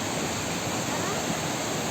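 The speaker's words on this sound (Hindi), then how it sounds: "ये बिल्कुल पेड़ों के बीच में से पानी आ रहा है, धीरे धीरे बह रहा है" Water flows at Bamni Falls in Purulia, West Bengal, a dense, even roar of rushing water between trees, heard alone and steady throughout.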